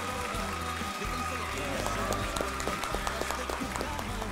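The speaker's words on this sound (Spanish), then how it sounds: "La despedimos con fuertes aplausos." Studio audience applause for a singer on a televised singing competition knockout round, steady clapping with sharper individual claps and a tonal music bed underneath, heard alongside voices.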